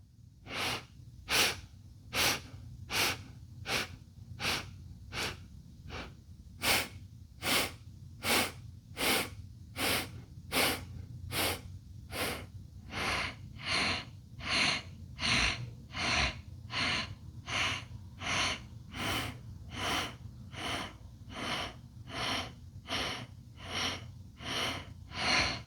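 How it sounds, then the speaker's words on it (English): Segmented breathing during a kriya practice for mental balance, eight sharp sniffs in and eight out, loud and close in a steady repeating rhythm of short bursts with no talk. "8 sniffs in and 8 sniffs out. Segmented breathing."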